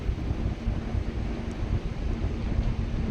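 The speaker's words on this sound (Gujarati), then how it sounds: "બહુ જ સડસડાટ પવન આવતો હતો" Strong, cold wind blows near water and hills, giving a continuous rough roar that buffets the microphone, loud and close, with no voices.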